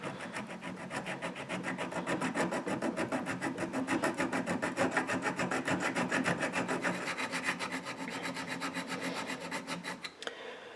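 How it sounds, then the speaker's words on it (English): A hand metal file rasping through a small weld on an M92 thread protector, with steady quick back-and-forth strokes in an even rhythm, close and continuous, stopping just before the end. "I'm just going to grab a file here and start filing away on this little weld right here"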